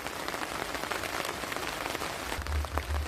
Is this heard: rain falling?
yes